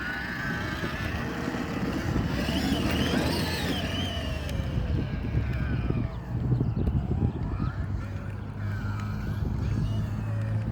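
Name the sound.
tractor engine running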